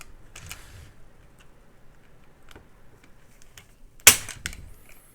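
A stock Glock 19 with its factory trigger bar, plunger and spring gives a sharp, close trigger click near the end, preceded by a few faint ticks over quiet handling noise.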